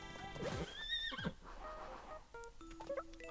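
A horse from the video game Miitopia gives a high, wavering whinny, followed by clip-clop hooves and small chiming game sound effects, with no talking.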